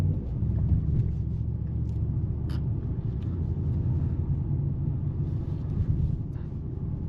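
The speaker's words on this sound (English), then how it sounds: "love the sound of the V8" A Mercedes-AMG GT 63 4-Door V8 sedan rumbles steadily while driving in comfort mode, a low, continuous engine drone heard from inside the cabin with no talk.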